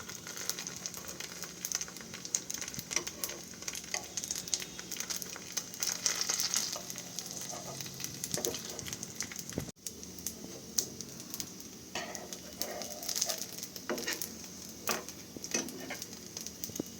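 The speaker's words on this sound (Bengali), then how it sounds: "ভেজে নেব।" Patishapta pancakes fry in a pan with a faint, steady close sizzle and crackle, punctuated by light scraping and handling sounds.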